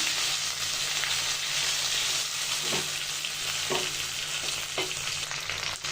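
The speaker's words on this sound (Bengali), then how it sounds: "মাছটা ফ্রাই হয়ে গেছে" Tandoori fish fries on a gas stove over medium-low flame, a loud constant sizzle and hiss with a few soft knocks from turning the pieces, no voices.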